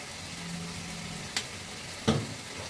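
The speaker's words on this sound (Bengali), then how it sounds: "দিয়ে সামান্য একটু জল দিয়ে নিয়েছি" Mutton curry with potatoes frying in a pan as a little water goes in, a low steady sizzle broken by two brief splashy bursts of spitting as the liquid hits the hot oil.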